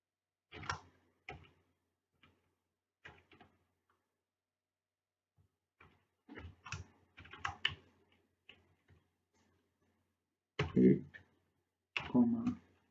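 Sparse, faint clicks of a computer keyboard as code is typed, with scattered keystrokes and short pauses between them, and soft talk mixed in toward the end.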